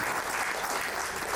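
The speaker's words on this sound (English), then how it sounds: "Please have a round of applause for the guests." Applause for guests at an association's annual general meeting in Vijayawada, a short burst of steady, moderately distant clapping from an indoor audience.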